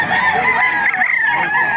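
A Red Kelso rooster at a chicken market crows loudly and close, a single sustained strained call holding through the clip with a rough, wavering tone.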